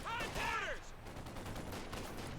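Artillery fire in the real-time strategy game Company of Heroes 2: a short burst of booming explosions and gunfire, moderately loud, with a brief whistling shell sweep at the start.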